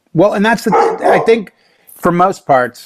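A dog barks on guard in a home while people keep talking, the barks mixed in with and partly masked by conversation over a few seconds.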